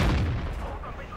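A tank's main gun fires in World of Tanks, a single heavy low boom at the start that fades into a rumbling tail, loud and close with no talk over it.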